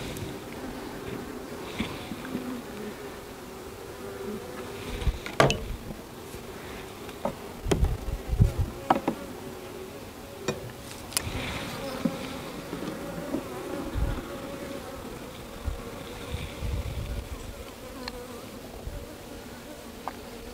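Honey bees buzz steadily around a five-frame nuc hive, a close, continuous hum with occasional louder passes as individual bees fly near, and no talking.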